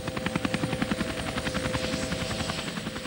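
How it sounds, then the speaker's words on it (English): A Chiltern Air Support police helicopter in flight, its rotor giving a loud, steady, rapid chopping beat over a continuous engine whine, heard alone and close. "this car is no match for the Chiltern Air Support helicopter"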